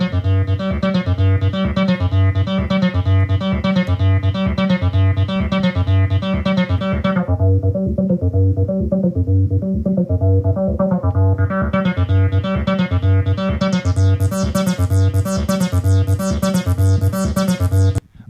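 Hacked Roland-style 303 bass machine playing a looping acid house line, a loud, steady rhythmic pattern whose resonant filter closes down midway and then sweeps back open brighter, with no voices.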